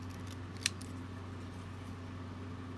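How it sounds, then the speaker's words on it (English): Long scissors cut card paper for a handmade greeting card, giving one short, quiet snip over a low, steady background hum. "But if I'm using a long scissors, which I am, this is just fine."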